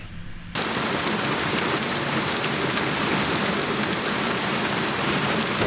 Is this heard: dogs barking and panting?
no